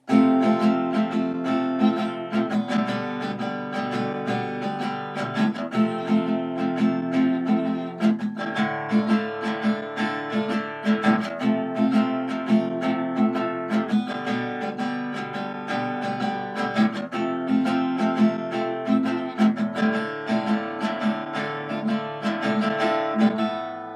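An acoustic guitar strums the outro of a song, steady rhythmic chords ringing close and full for the whole stretch, with no voices over it.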